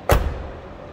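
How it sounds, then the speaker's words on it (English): A single solid car door thud from a 2007 Lincoln Town Car, close and heavy, followed by a quiet low rumble that fades out. "Listen how this door closes also"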